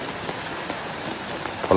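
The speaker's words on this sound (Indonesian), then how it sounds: "hujan masih turun" Rain keeps falling during a flood in Muaro Pingai, a steady, dense hiss of drops on surfaces that fills the space evenly, with no voices over it.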